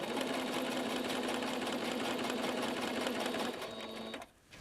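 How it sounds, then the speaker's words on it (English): Sewing machine running steadily as it stitches fabric, a close, continuous motor whir with a faint hum that eases off near the end. "then you continue sewing"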